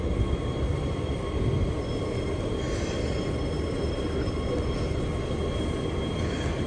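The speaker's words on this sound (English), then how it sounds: "just going to get a video of this Port Kembla train leaving" Continuous low rumble of a train rolling along the tracks with faint metallic wheel squeals, steady and fairly close, no voices.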